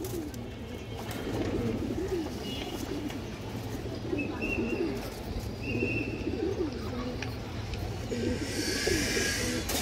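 A mated pair of domestic pigeons coos repeatedly in low, throaty, rolling calls close by, one coo following another in a steady run, with faint background hiss and occasional chirps.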